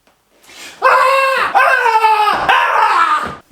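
A person screams three times while jumping, each cry loud, close and strained, lasting about a second with short gaps between them.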